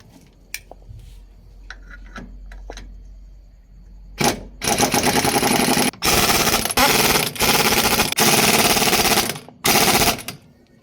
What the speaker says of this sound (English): I'm going to take on 19 and then we tighten our wheel nuts.